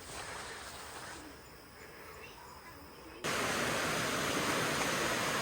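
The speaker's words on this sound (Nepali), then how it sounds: "वाउ, फाइनली वाटरफल आइपुग्यो।" A large forest waterfall at Mui Wo, Hong Kong, gives a steady broadband rush of falling water that abruptly grows much louder and fuller about halfway through, then holds a constant roar with no talking.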